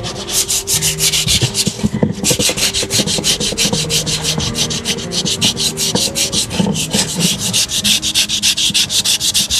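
Wet sanding with fine 2000-grit sandpaper and water, a steady rapid back-and-forth rasping in quick regular strokes, close and loud, continuing with only a brief pause.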